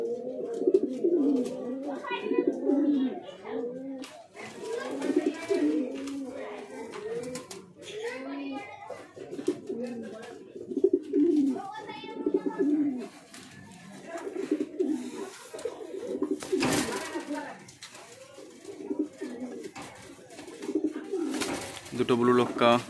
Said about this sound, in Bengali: দুটো ব্লু লক্কা, একটা হোয়াইট লক্কা।